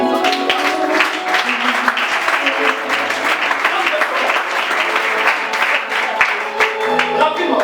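A church congregation at a Sunday service applauding in praise, dense sustained clapping from many people filling the room, with some voices mixed in.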